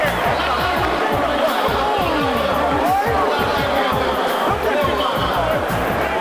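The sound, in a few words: basketball arena crowd cheering a dunk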